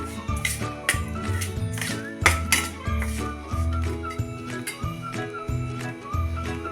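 Sabudana being tossed with salt and sugar in a bowl, a steady run of close clinks and scrapes from spoon against dish, repeated in an uneven rhythm with no talking.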